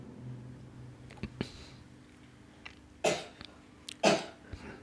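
Someone coughs several times in a hushed meditation setting, short moderately loud bursts spaced apart, with faint shuffles and quiet room tone between them.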